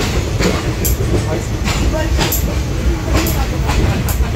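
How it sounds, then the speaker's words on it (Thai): A train departs near Phachi district, Thailand, with loud continuous rumbling and rhythmic rail clatter, close by throughout. "รถไฟออกแล้วนะครับ"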